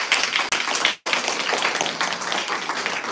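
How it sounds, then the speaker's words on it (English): An audience at a community service center's anniversary and awards celebration claps for volunteers, a close and fairly loud burst of many hands with a brief break near the start and steady clapping after it. "so give them a round of applause"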